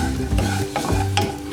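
Vermicelli being stirred as it fries in a pan, a steady close sizzle with scraping strokes of a spoon at a regular rhythm, no voices.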